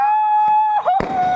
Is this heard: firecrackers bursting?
yes